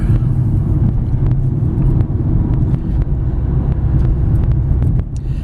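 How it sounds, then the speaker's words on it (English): Steady low engine rumble and road noise from a Ford Focus ZX3 S with a five-speed manual cruising in fifth gear, constant and fairly loud with no gear changes or voices. "Go ahead and shift into overdrive or 5th gear."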